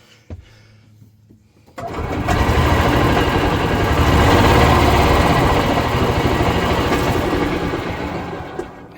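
Cub Cadet Carryall 500 utility vehicle engine cranking and catching after a few faint clicks, then running loudly and steadily at close range with a rough, rattling idle for several seconds.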